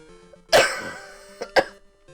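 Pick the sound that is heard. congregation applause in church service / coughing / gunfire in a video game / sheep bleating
coughing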